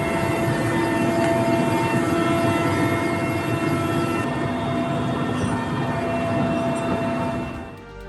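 A helicopter delivering food over landslide-hit areas of Wayanad, Kerala, gives a loud, steady droning whine with a continuous rotor rumble that lasts throughout and eases off only at the very end.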